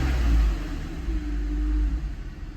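A BMW E46 engine runs steadily with a low, constant rumble and mild swells, close by and alone with no talk.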